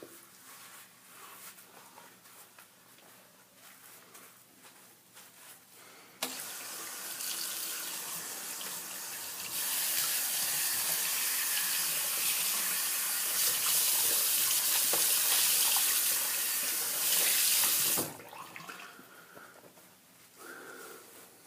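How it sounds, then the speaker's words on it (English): Tap water runs steadily into a sink while soap is rinsed off a face after a shave. The flow is loud and continuous for several seconds with splashing and sniffs around it, and no one speaks. "I'm just going to get the soap off my face."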